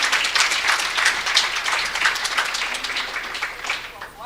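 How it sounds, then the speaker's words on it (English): An audience at an academic research day gives a round of applause for a judge, dense steady clapping throughout, fairly loud and close, with voices mixed in. "let's give the Honorable Judge a round of applause"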